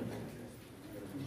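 Pigeons at a pigeon auction coo steadily in a low, continuous murmur that fills the space, with faint background chatter mixed in.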